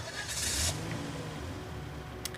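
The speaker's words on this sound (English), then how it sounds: "You hop into his truck and drive off to the manor." A pickup truck drives off in the Sweet Magnolias video game, a steady mid-range engine rumble with a brief hiss and a faint click near the end.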